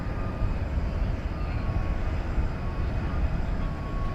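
American Eagle regional jet lined up at DFW at night, a continuous even jet engine rumble heard alone at moderate level.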